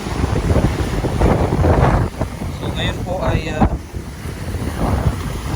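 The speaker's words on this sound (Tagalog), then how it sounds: "Malalaking alon." Large waves crash against the seaside of Barangay Nato, Sagñay, Camarines Sur during Typhoon Opong, a loud roaring surge with heavy wind buffeting the microphone, while someone speaks over it.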